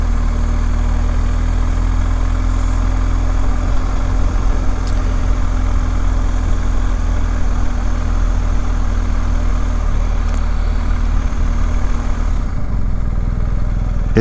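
A BMW 1250 GS motorcycle rolls along slowly, its engine holding a steady, loud low rumble with little change in pitch and no voices.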